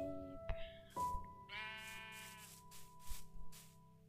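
One pink sheep in a video game gives a wavering bleat partway through, set against a few electronic tones and soft clicks.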